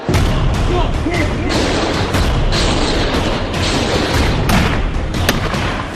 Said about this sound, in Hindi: आज तक के कैमरे में कैद हुई रूसी बमबारी